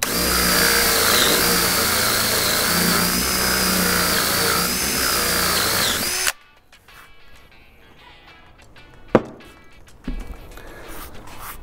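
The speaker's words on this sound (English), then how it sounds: "Hold it firm and drill down." A power drill with a 1/4 inch auger bit bores into a tree trunk, whining steadily and loudly for about six seconds before stopping. A few sharp knocks and handling sounds follow.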